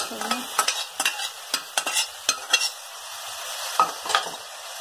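Cooked mutton keema is tipped into a pan and stirred, giving a row of sharp scraping and clattering strokes over a light sizzle, close and unaccompanied by talk.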